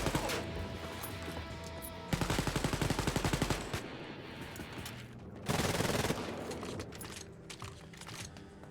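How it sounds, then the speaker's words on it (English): Assault rifle fire in the video game Wolfenstein: Youngblood, heard as loud rapid bursts of automatic gunfire, two long strings separated by quieter in-game ambience and clatter, no talking. "I've modified the weapon to get single shots and an assault rifle"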